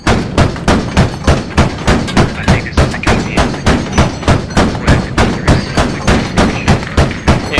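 Rapid, evenly spaced heavy tank gunfire bursts in the video game Squad, loud and close, a steady rhythmic stream of thumping shots across the whole stretch with no talk.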